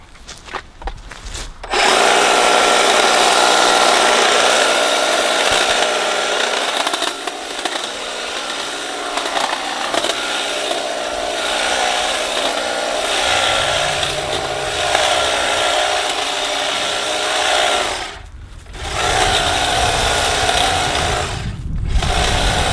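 A Husqvarna 536LiHD60 cordless hedge trimmer cutting a tree hedge, its loud buzzing whir running steadily and close, dipping in load as branches are cut, with two brief pauses near the end.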